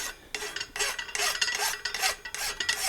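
Hand file rasping cold mild steel, a Magic Cut file worked in repeated forward strokes; about six steady scraping passes, close and fairly loud, with no talking.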